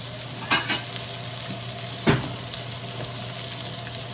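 Steak frying in a stainless steel pan, a steady close sizzle throughout with a couple of brief scraping touches.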